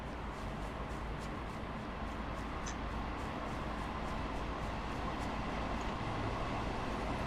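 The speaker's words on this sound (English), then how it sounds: "It's a Port Washington train." A Long Island Rail Road Port Washington train in Train Sim World rumbles past as a dense, steady broadband roar with faint periodic clicks, loud and continuous throughout with no voices.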